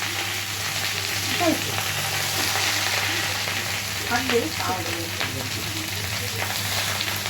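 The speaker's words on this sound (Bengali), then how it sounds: "তো রসুনটা ফোড়ন দিয়ে এবার শাকটাকে দিয়ে দিচ্ছে" Leafy greens tossed into hot oil with a garlic tempering in a wok, a loud, close, continuous sizzle with some stirring, while faint voices murmur in the background.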